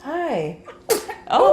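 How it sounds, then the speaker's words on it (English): A single sharp sneeze bursts out midway, close and loud, between stretches of people talking indoors. "You know how to sneeze."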